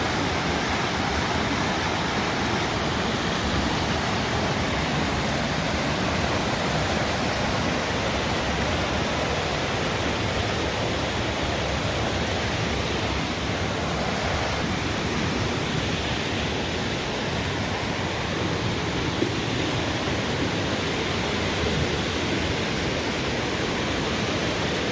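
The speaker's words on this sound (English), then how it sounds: "I'd say that's probably class 3 or class 4 rapids right there." River rapids, roughly class 3 or 4, rush steadily along a stretch of Vermont's Appalachian Trail, a dense, unbroken roar of whitewater that holds constant and loud throughout.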